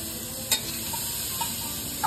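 Food for chana chaat fries and gets stirred in a hot pan, a steady, loud sizzle with a few sharp scrapes and clinks of the utensil, close and without talk.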